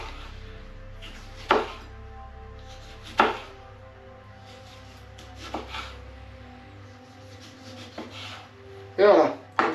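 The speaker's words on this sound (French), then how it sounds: "je vous montre pour les tomates. Alors d'abord, on enlève hop, ça et on découpe. Pareil, des rondelles." Knife slicing tomatoes into rounds on a cutting board for a spring tart: a few sharp chopping strokes spaced a second or more apart, with rubbing and faint handling noises between them.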